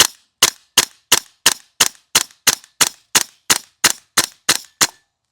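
A Classic Army URGI MK16 gas blowback airsoft rifle fires off the rest of its magazine, fifteen sharp, evenly spaced cracking shots at a steady rhythm, close and loud, with no voices.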